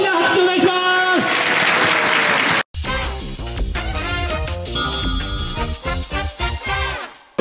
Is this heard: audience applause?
yes